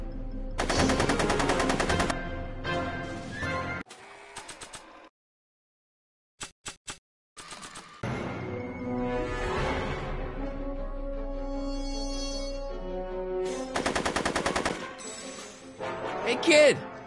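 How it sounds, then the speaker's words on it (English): Bursts of rapid gunfire in the Back to the Future video game, loud rattling volleys separated by gaps and interrupted by short silences, with game music and voices between them. "Are you shooting at me?"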